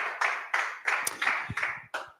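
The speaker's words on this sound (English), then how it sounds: "Let's get another round of applause for Raj." Slow, separate claps at a tech meetup sound for a speaker, about six sharp claps spaced at a steady beat, each dying away before the next, from what seems a small group.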